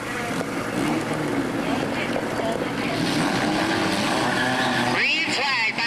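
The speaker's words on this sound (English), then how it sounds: "Green flag back on the Speedway." Race cars at a speedway enduro race roaring past with engines droning continuously and tire squeal near the end, under a public-address announcer talking.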